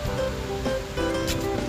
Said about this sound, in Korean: 이야, 폭포 소리 대단하다.